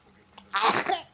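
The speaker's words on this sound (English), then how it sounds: "Is it funny to sneeze?" A small, sharp sneeze from a baby, close and brief, after a faint breathy intake.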